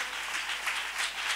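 A church congregation claps in a brief, steady burst of applause without audible speech.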